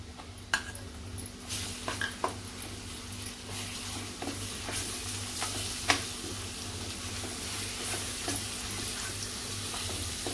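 Wet masala paste with a spoon of homemade Koli masala sizzles softly in a pan over medium gas, a low continuous frying hiss punctuated by occasional spoon scrapes and clinks, with no talking.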